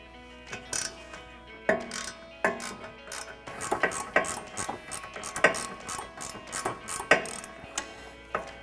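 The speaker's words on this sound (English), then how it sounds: "make sure your ratchet doesn't bottom out on the shock here" A ratchet working loose the rear wheel bearing bolts on a 2015-2025 Ford Mustang, rapid metallic clicking in short irregular bursts with sharp pawl ticks, close and fairly loud with no talk.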